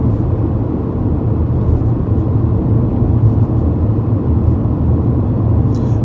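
Cabin of a moving BMW E46 3 Series Compact: a steady, dense low rumble of road and engine noise, constant and unbroken throughout.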